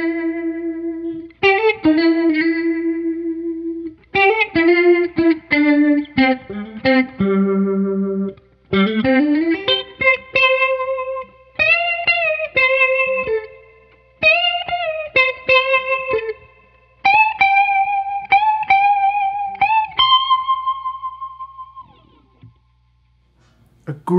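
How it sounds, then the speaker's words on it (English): Electric guitar played through a Strymon Lex Leslie rotary speaker effect, a melodic C major solo line with swirling, warbling sustained notes, bends and phrases, loud and alone with no talking. "If we throw in a Leslie effect with the Strymon Lex, it can sound something like this."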